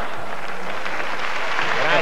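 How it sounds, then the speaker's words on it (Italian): An audience applauding after a comic poetry recitation, a steady wash of clapping held for a couple of seconds with a voice faintly mixed in beneath it. "un bel applauso"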